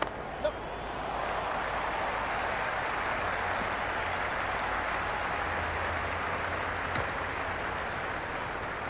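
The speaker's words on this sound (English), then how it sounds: "The crowd are really getting quite raucous." A cricket crowd at a T20 World Cup match between Pakistan and the Netherlands roars as a steady, dense wash of raucous stadium noise that holds throughout, with a few sharper shouts rising out of the din.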